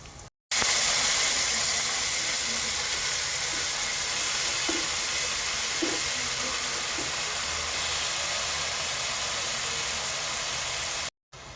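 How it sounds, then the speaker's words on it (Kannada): Pieces of chicken fry in a hot pan for a chicken curry, a loud, continuous sizzling hiss close up, with a few faint knocks from stirring. "ಈಗ ಚಿಕನನ್ನು ಹಾಕೋತೀನಿ."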